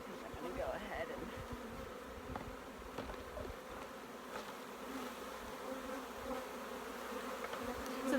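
Honey bees buzzing around an open hive during an apiary inspection, a steady, close swarm hum with individual bees droning past, continuous and fairly quiet, with no talking.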